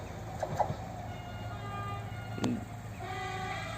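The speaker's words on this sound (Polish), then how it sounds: "Także pociąg osobowy lotniskowy, który w pewnym sensie jest pociągiem dalekobieżnym N76011 z Warszawy lotnisko Chopina." Passenger airport train running from Warsaw Chopin Airport to Modlin rumbles past at a distance, with a steady low drone, a faint horn-like tone, and a few metallic clanks.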